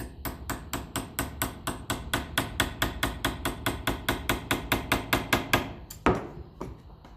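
Rapid, steady hammer taps fitting a part into a 1954 Ferguson 20 TEF diesel tractor, a close metallic rhythm of about twenty evenly spaced blows ending with one heavier strike.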